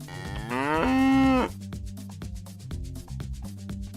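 A cow gives one long, loud moo that rises and holds before breaking off, followed by cheerful rhythmic children's music in an animated animal-train song.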